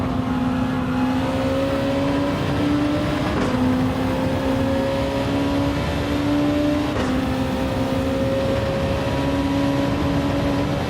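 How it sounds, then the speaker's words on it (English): A racing video game car drawing alongside and passing on the inside in an online lobby race, steady engine drone with a rising whine that builds and fades over a constant loud roar of the player's own engine. "it's a car coming up the inside of me"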